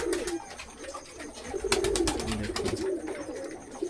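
Pigeons coo close by in a backyard loft on an overcast day, with soft repeated throaty calls overlapping and a few wing flaps and rustles under steady background noise.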